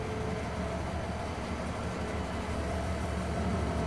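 In Farming Simulator 22, a train rolls along with a constant dense rumble of wheels and cars, a steady, unbroken drone with no talking.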